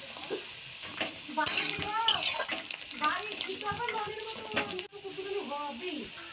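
Onions and green chilies sizzle steadily in a hot pan with occasional stirring scrapes, while a voice talks over the cooking.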